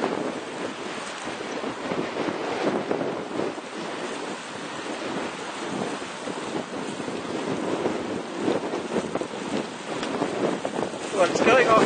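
Strong 20 mph storm wind roars across a lake during a robot boat launch, a loud, constant rush of gusting air buffeting the microphone with wave wash underneath for the whole stretch.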